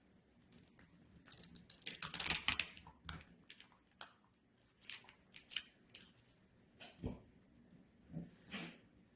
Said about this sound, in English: we will be invited to peel back the cellophane on our fellowship kit and consume the enclosed wafer